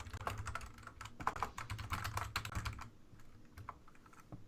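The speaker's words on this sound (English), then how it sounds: "can you guys see my tweet that I'm typing?" Rapid, uneven clicking of a computer keyboard as a tweet is typed, close and fairly quiet, with bursts of keystrokes and a brief slowdown near the end.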